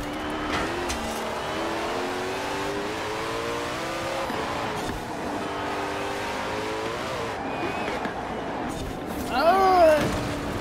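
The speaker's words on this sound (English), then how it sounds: "This car is really harsh to drive." A Koenigsegg Jesko hypercar in the Forza Horizon 4 racing game revs through its gears with rising and falling engine tones and brief tire squeal near the end, while someone talks over it.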